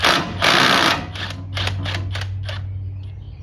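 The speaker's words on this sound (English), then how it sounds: "I got impact little extension with kind of a swivel on it, and I'm gonna see if I can't get this popped out of here." Impact wrench fitted with a small extension and swivel, working to free a stuck oil pressure sensor on a New Holland LS180 skid steer: a long sustained burst of rattling hammering, then several shorter bursts, close and loud over a low hum.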